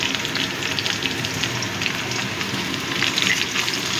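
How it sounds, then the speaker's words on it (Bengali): Taro, pointed gourd and cucumber frying together in hot oil in a pan, giving a loud, steady crackling sizzle that runs unbroken throughout with no voices. "এবার এগুলোও ভালো করে ভেজে নেব।"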